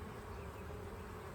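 Honeybees packed densely in a beekeeper's hive box, giving a steady, close, unbroken buzzing hum that fills the whole moment with no voices.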